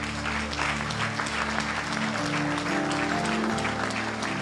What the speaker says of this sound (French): On acclame pour l'Esprit de Dieu.